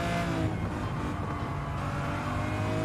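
Ferrari 250 GTO engine in Gran Turismo 7 droning at a steady, loud note with harmonic layers, holding constant power throughout with slight pitch shifts, no talking over it.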